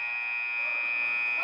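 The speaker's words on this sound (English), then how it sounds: "Haley puts up a prayer there as the buzzer went" An end-of-quarter buzzer in a girls' varsity high school basketball game drones as one steady, moderately loud electronic tone, ending abruptly with a burst of gym noise.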